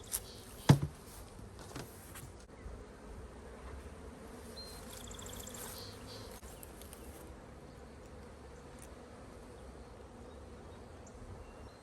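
A steady, close drone of many honeybees buzzing at their hive, with a couple of sharp knocks near the start and no voices.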